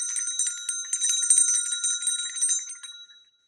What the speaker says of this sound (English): This is our little bell, little cherub